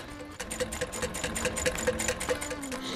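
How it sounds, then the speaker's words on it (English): Up close, a sewing machine stitches a leather bag with a quick, even run of mechanical pulses that lasts about three seconds, with no voices over it. "the way this bag goes together is I sew it inside out"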